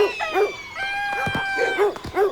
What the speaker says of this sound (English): Yellow dogs, green dogs, black dogs, and white dogs are all at a dog party.